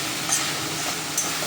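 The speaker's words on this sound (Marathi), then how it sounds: "आता भाजी इथे वाफलत आलेली आहे." Chopped spring onion greens sizzling and steaming in a pan over high heat, a steady close frying hiss with faint light clinks, no talking.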